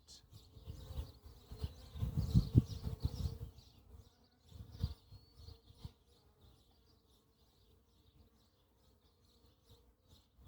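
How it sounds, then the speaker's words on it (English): Honey bees buzz around an open hive during a first-month inspection, a soft, wavering drone that swells early on, then thins to a faint background hum. "There's a lot more bees buzzing around."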